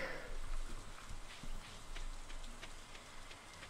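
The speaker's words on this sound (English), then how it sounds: "I'm done with this rain." Steady rain from the video game Stardew Valley pours as a continuous broadband hiss with scattered drop patter, moderately loud and alone throughout.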